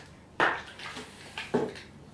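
About 250 ml of water is poured into a pot on a camping stove, heard as two short close splashing pours with brief gurgles between quieter moments.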